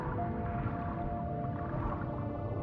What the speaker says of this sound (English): You can also see whales, you can hear them, the humpback whales, the blue whales